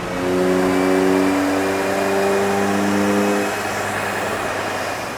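Volkswagen MK8 GTI engine on a dyno during a stage 1 plus tuned run, a loud sustained engine drone with steady rising harmonics that drop off near the end.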